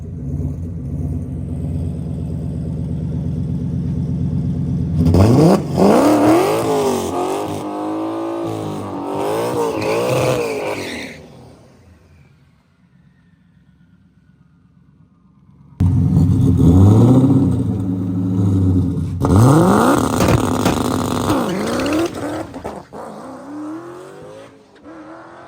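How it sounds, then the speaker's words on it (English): A turbocharged Coyote-engined stick-shift car launches hard on a track with its tires spinning. The engine rises loudly through two pulls with rising revs, a near-silent gap between them, then falls back to a rumble. "We definitely shook the tires off the line."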